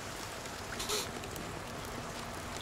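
Rain falls in the video game Force of Nature 2, a faint, steady hiss of drops with a soft, brief tone partway through.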